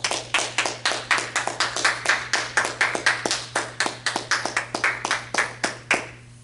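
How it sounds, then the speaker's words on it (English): Congregation clapping hands in praise at a church service, a steady rhythmic run of sharp, loud claps close by for about six seconds before fading out, with no talk over it. "Let's give the Lord God a hand clap of praise."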